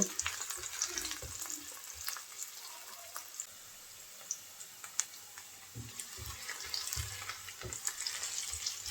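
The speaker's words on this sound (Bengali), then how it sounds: "পেঁয়াজটা হালকা একটু ভেজে নেব" Two medium chopped onions fry in oil in a pan, giving a steady close sizzle broken by occasional scraping stirs.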